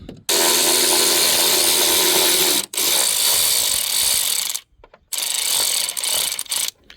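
A socket wrench fitted with a 12 socket ratchets loose the battery bolts on a 2016 Kia Sportage, a loud, close, continuous rapid clicking with short pauses between runs.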